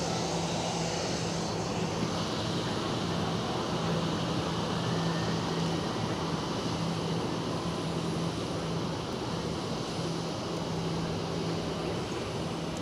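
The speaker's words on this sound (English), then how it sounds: "Next departure from runway 28 is a Swiss 320 to" A Swiss Airbus A320 departs runway 28 at Zurich Airport, its jet engines making a steady, broad roar that lasts throughout with no talk over it.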